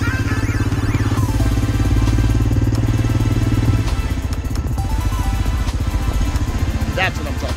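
An ATV engine runs steadily and loudly on a beach tour in Nosara, Costa Rica, with a constant mid-range drone and some rattling, while people talk over it.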